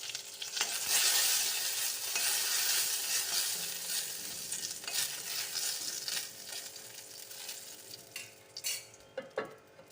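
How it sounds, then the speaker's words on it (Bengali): Cumin seeds, dried chillies and bay leaves hit hot oil for tempering with a loud, crackling sizzle that bursts in at once, slowly eases off, and ends with a few sharp utensil clinks against the pan. "একটু জিরে দিয়ে দিলাম, শুকনো লঙ্কা আর তেজপাতা দিয়ে ফোড়ন দেবো।"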